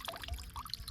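Cold mountain spring water pours and trickles down a hillside stream, a close, steady splashing flow with small bright droplet sounds throughout.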